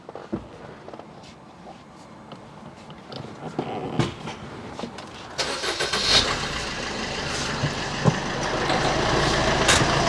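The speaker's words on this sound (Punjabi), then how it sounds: "ਇਹਦਾ ਵੀ ਆਪਾਂ ਸਾਊਂਡ ਚੈੱਕ ਕਰਵਾ ਦੇ ਇੱਕ ਵਾਰ ਗੱਡੀ ਦਾ" A used diesel car engine with about 70,000 km cranks and starts about midway, then runs with a steady, fairly loud rumble; quieter handling noises and clicks come before it.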